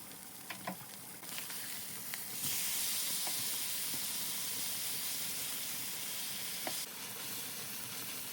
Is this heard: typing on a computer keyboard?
no